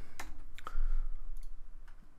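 A few sharp key presses on a computer keyboard, quiet and spaced apart, with no voice.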